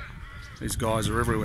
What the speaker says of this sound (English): You hear the crows in the background.